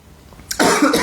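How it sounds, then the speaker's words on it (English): Two people coughing at once, a sudden burst of harsh, close coughs cutting in after a near-silent moment. "We both coughing right now."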